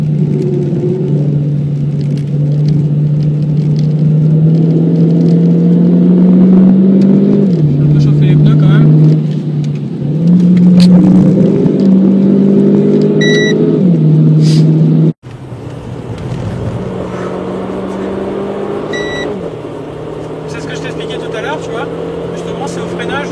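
A Renault Clio 4 RS 200 EDC accelerating hard with launch control: a loud engine climbs through the revs in repeated surges, each broken by a brief dip as the gearbox shifts up. Heard close from inside the cabin, with steady road noise underneath.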